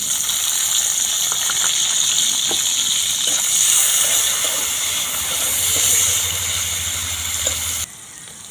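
Whole garam masala and a bay leaf hit hot oil in a wok, producing a loud, continuous hiss with faint scattered pops, close up, until it cuts off abruptly near the end.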